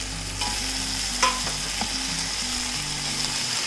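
Fried chicken tossed with ketchup on high flame gives a steady, loud sizzle with a spoon scraping and stirring through it, and one brief clink partway.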